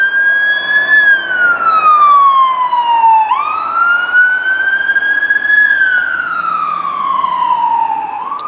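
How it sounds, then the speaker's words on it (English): Emergency vehicle siren wailing past, a loud, close, rising and falling tone that sweeps slowly up and down several times. "5th or 6th emergency vehicle to go by."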